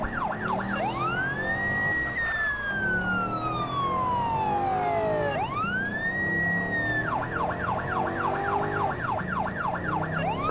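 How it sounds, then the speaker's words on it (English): A 1990s-style police car siren from a San Andreas roleplay game wails loud and close, sweeping in long slow rises and falls before switching to a rapid warbling yelp, with no talking. "First code 3 response with the 90s siren and everything."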